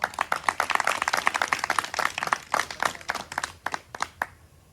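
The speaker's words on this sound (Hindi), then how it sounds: "तो टीम फाइटर, अपने लिए एक बार जोरदार तालियां।" A small group claps for a team at a New Year celebration: uneven, fairly close handclaps in a quick, ragged rhythm that thin out and stop near the end.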